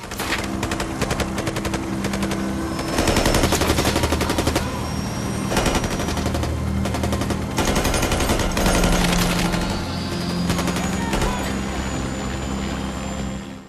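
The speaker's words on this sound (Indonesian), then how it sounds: "Junior membantunya untuk menembaki para petugas dengan skill yang diajarkan oleh reseller Ahmad Shotgun" Sustained loud bursts of automatic gunfire fill a film action scene of shooting from a helicopter, dense and continuous with a rumbling engine bed underneath.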